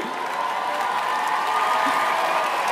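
Audience applause with crowd noise, a dense continuous roar of clapping and faint cheering, even in loudness from start to finish.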